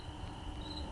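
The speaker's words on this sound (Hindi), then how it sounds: "बीच बीच में झींगुरों की तीव्र आवाज" Crickets chirp in a steady, shrill drone on a dark, moonless night along a deserted path through fields, the sound continuous and fairly close.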